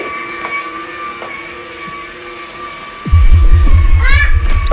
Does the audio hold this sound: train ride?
yes